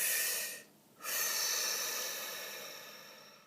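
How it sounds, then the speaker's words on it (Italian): A single deep breath, a long airy inhale and exhale close to the microphone, with a short pause between, quiet and unaccompanied by speech. "facciamo un bel respiro"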